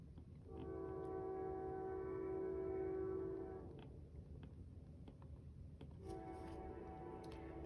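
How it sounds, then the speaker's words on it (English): Trains pass at a distance while a horn sounds in two long, steady blasts, the first held for about three seconds and the second starting near the end, over a low rumble of rail traffic. "There's the trains."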